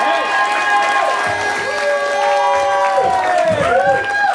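Comedy club crowd in Cambodia applauding, whooping and hollering for a stand-up comedian, loud and continuous, with shouted voices and whistle-like cheers rising over the clapping throughout.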